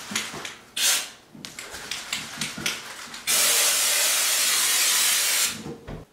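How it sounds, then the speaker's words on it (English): Homax aerosol wall texture spray, shaken and then discharged: a loud, steady broadband hiss lasting about two seconds after several short handling knocks, ending abruptly. "I'm guessing you push down on this white top to spray."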